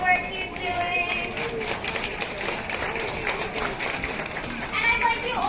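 An audience at the Vancouver Aquarium claps, with a continuous patter of applause under a speaking voice.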